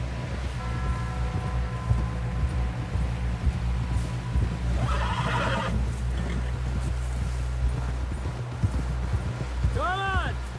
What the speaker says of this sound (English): Someone help John down off this horse